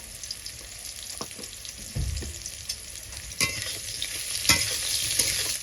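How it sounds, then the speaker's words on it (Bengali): Steady sizzling of plantain frying in hot oil, with occasional stirring clatters and scrapes in the pan, close up and continuous. "ঠিক একই রকমভাবে ভেজে নেব আলুর মতো করে"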